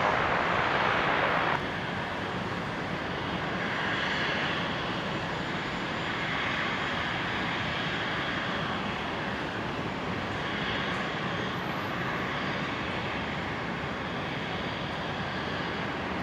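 An Embraer airliner sits at Brisbane airport before taxiing, its engines giving a steady, moderately loud broadband roar that holds even throughout with no clear change in pitch.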